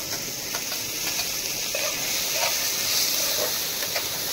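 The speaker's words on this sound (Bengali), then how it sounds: "এবার আমি টমেটোগুলো দিয়ে দিচ্ছি এখানটায়।" Tomatoes are added to frying onions in a pan, producing a soft steady hiss and sizzle with faint stirring touches, close and without voices.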